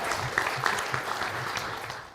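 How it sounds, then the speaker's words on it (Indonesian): Studio audience applause at an Indonesian televised forum on land mafia, moderate clapping from a crowd that holds steady for a couple of seconds and fades slightly toward the end. "Tepuk tangan untuk kita semua."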